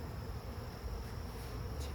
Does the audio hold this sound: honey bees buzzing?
yes